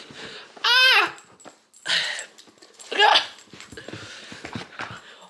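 A dog lets out three separate high, whining whimpers, close and fairly loud, with quieter shuffling and faint chatter between them.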